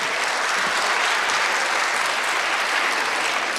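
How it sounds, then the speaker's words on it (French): Steady, dense applause from an audience at an awards ceremony, continuous and fairly loud throughout with no voices over it. "Mais vous pouvez applaudir quand même Alain Eikerman."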